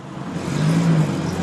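A car engine rising in pitch as the vehicle revs and drives off, a short, moderately loud mid-range whir building steadily, with no talking.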